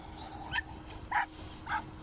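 Dogs at a dog park give three short, evenly spaced barks or yips at moderate distance over a low background murmur.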